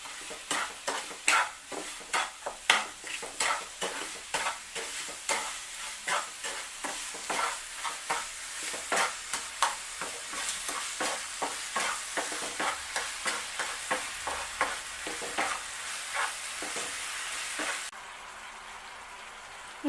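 Beetroot burfi mixture being stirred in a pan, a steady series of scraping, sizzling strokes repeating roughly every half second, close and clear, no talking, ending abruptly near the end.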